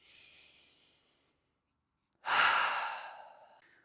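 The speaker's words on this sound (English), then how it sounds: "So if you like, we can take a breath in together." A deep breath in drawn by a single person, soft airy inhalation for over a second, then a pause and a louder, fuller breath that fades out slowly.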